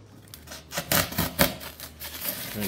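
Foam being cut by hand for a model railroad waterfall and tunnel module, a quiet series of uneven scraping, tearing strokes with short pauses between them.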